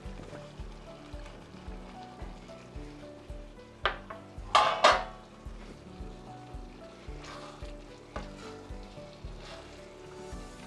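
Steady sizzling of onions and garlic frying in a pan with softened tomatoes, with a few louder clinks and scrapes of a utensil stirring partway through.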